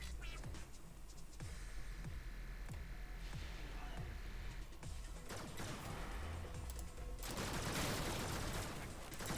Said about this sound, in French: ce bruit-là, j'appelle ça un full contact, ça veut dire que toutes les balles de mon flingue ont touché l'ennemi